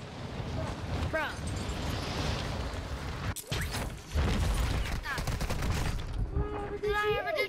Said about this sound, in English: I'm like so high in the air and they're shooting me